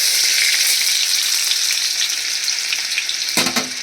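Cumin seeds, a dried red chili, bay leaves and chopped ginger fry in hot oil with a loud, close, continuous sizzle and scattered crackles, ending in a brief burst of stirring clatter near the end, with no talking.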